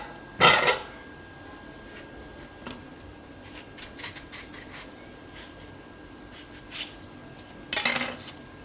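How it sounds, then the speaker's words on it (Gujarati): Raw white mango being cut into pieces for Gujarati instant mango-fenugreek pickle, two sharp knife chops at the start and end with faint tapping and handling clatter between, no talking. "એટલે આ રીતે આપણે ટુકડા કરી નાખીશું"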